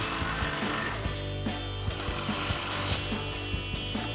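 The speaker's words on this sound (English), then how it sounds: "use that 18mm socket on our impact to tighten these down" An impact wrench with an 18mm socket tightens winch bumper bolts on a 2011-2016 Ford F-250 Super Duty, giving a steady loud mechanical whir broken by regular sharp hammering knocks, with no talking.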